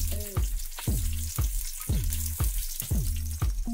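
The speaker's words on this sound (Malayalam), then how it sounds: "വെളിച്ചെണ്ണ നന്നായിട്ട് ചൂടാവുമ്പോൾ 2 സവാള സ്ലൈസ് ചെയ്തത് ആയിട്ട് നമുക്ക് വഴറ്റാം" Two sliced onions sauté in hot coconut oil with a steady close sizzle, overlaid by a regular rhythm of short, repeated squeaky tones about twice a second.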